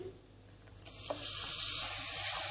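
Palmyra palm pulp frying in ghee with nuts for halua, starting as a quiet, soft sizzle that swells into a steady, louder hiss with light stirring. No one speaks.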